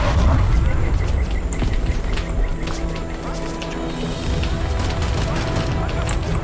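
Machine gun fire in the Vietnam war game Call to Arms, a dense crackle of distant bursts and impacts over battlefield rumble, with a voice talking over it.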